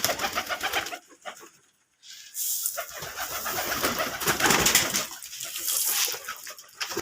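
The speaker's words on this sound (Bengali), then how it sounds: "মাশাআল্লাহ দেখেন আমার কবুতরগুলো সব বাচ্চাদের দিছে" Domestic pigeons with young coo in soft, repeated low murmurs close by, broken by a short quiet gap, with a faint watery splashing in the background.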